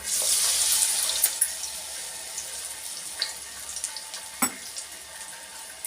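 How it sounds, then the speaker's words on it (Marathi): Sweet corn tikki patties fry in a pan over a low gas flame, giving a steady hiss and sizzle with a few small pops and crackles, with no talking. "आता त्यांना फ्राय होऊ देते कमी गॅसवर"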